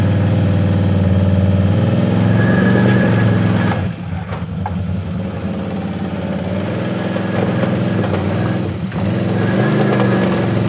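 Can-Am off-road vehicle engine held on light, steady throttle while rock crawling, a continuous mid-pitched idle-like drone close to the microphone, dipping briefly around the middle and then picking back up.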